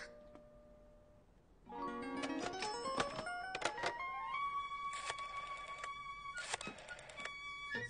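An old telephone rings in a children's Caillou cartoon, with a jangling, tonal ring that starts after a quiet opening and repeats in bright bursts over a sustained tone.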